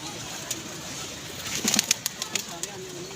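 Pigeons coo softly at a pigeon club loft, a low murmur under steady hiss and scattered sharp rustles and taps, with a voice heard faintly.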